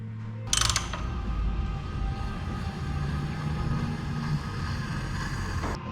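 A car engine turned over by hand on a dream car build, giving a steady mechanical ratcheting and gear-like churning that starts abruptly and runs continuously, close and fairly loud.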